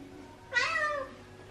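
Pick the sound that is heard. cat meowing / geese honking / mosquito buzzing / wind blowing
cat meowing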